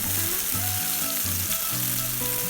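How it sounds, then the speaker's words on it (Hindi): Eggplant veg fish kebabs frying on low heat, a steady close sizzle of oil running unbroken under faint background music, with no talk. "इन्हें धीमी आंच पर 4 से 5 मिनट तक फ्राई करना है।"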